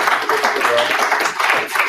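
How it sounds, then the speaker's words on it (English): Warm audience applause for a speaker at a talk, dense steady clapping filling the room, loud and close, with a voice briefly heard among it. "Let's give him another warm round of applause."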